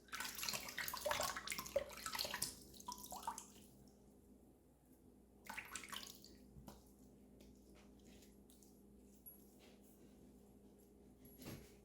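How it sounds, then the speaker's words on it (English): Water runs and splashes faintly in a bathroom sink while a face is rinsed after shaving, louder at first, then settling into quiet drips and trickles. "Let's give it a rinse."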